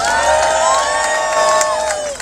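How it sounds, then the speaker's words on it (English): A crowd cheers and whoops loudly, with high excited voices and scattered claps blending into a continuous outdoor roar. "Let's give them a big round of applause."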